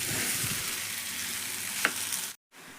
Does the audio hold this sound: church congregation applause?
no